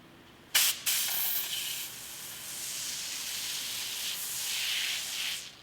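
A detail keg super foamer hose is purged, giving two short bursts of spray and then a steady hissing jet that runs for several seconds, fairly quiet and heard alone.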